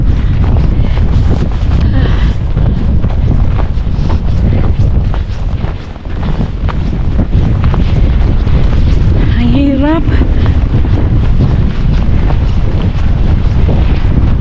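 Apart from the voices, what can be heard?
strong wind blowing by the river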